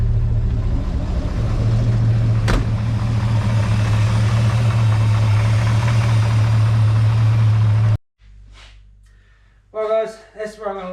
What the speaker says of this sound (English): Still got a weird rattle kind of at idle.